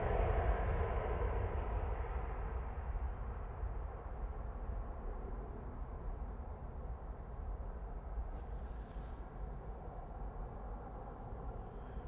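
A Boeing 737 jet at Amsterdam Schiphol, heard as a faint, distant and continuous low engine rumble that stays even and slowly eases off, with no voices.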